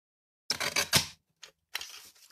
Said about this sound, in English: what I want to do now is trim my card to that width